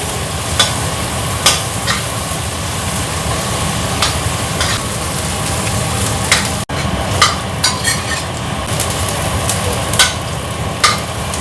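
Ginger and garlic fry in a pan with a steady close sizzle, broken by repeated scraping clinks of a utensil stirring the pan, and no talking.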